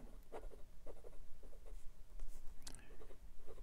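Steel fine nib of a Jinhao 82 fountain pen scratching across Clairefontaine 90 gsm paper, close and quiet, in short irregular strokes with small pauses between words.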